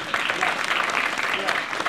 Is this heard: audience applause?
yes